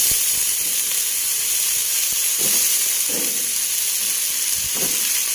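Chayote and eggplant sautéing in a pan, a constant bright sizzling hiss with a few soft stirring knocks and scrapes underneath.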